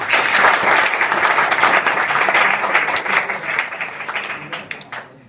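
Students in a class 10 and 12 classroom at an inter college in Azampur, Uttar Pradesh break into loud, dense applause that holds steady, then thins and fades out toward the end.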